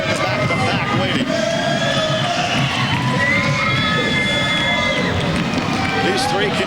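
Crowd cheering and shouting through a roller derby bout, a steady loud roar of voices with whoops rising above it, continuous throughout.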